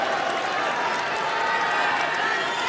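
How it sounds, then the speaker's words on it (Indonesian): A debate audience applauds candidate pair number one at the 2024 East Java gubernatorial debate, a steady wash of clapping from a large crowd in a hall. "kita berikan tepuk tangan untuk pasangan calon nomor urut 1"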